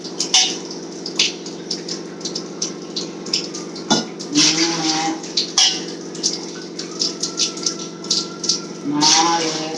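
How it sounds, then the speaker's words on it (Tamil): Water is poured in splashing bursts into a cooking pot while making a fish curry, with uneven pulses, clinks of the vessel and a person talking over it. "இப்போ இதில் வந்து நம்ம தண்ணி அளவு ஊற்றிக்கலாம்."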